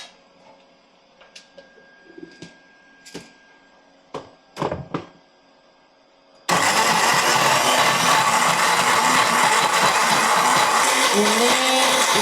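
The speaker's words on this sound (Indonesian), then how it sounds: "Lalu kita blender." A kitchen blender whirs loudly and steadily through cooking ingredients for salsa, starting abruptly after a few quiet ticks and clicks, then running nonstop at full strength, close by.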